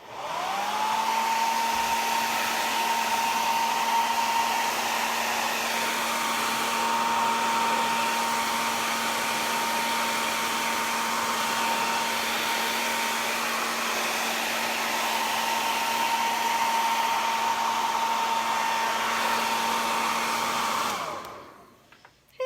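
A hair dryer blows on wet paint on a craft project, a steady close whooshing drone with a constant motor whine that holds for about twenty seconds before clicking off, with no talking.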